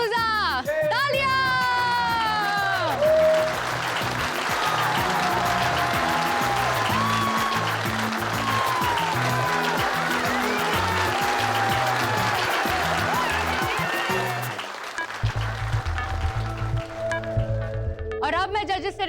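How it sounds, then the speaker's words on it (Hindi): Audience applause at a stage show on a Hindi TV program, sustained clapping mixed with loud music and a host's voice, ending with a sudden drop into a quieter stretch. "तालियां!"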